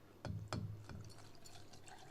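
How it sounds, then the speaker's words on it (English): Liquid pours into a glass, a couple of quick splashes followed by a soft, quiet trickle. "we have to pour it up like this"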